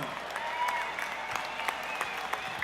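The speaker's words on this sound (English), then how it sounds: "Give them a big round of applause." Audience applause for men and women in uniform at the Barrett-Jackson 2024 Scottsdale auction, a steady wash of clapping from a sizeable crowd that holds at an even level for the whole stretch, with no voices standing out.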